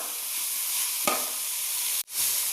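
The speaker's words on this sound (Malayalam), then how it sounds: "എന്നിട്ട് ഇത് നല്ലോണം വഴറ്റി ഈ ഉപ്പും ഇതെല്ലാം പിടിക്കുന്നത് വരെ വഴറ്റണം" Chopped onion sautéing with salt in a pan for a Kerala-style thoran, a steady bright sizzle with one soft stir scrape midway and a sharp break near the end before the frying hiss resumes.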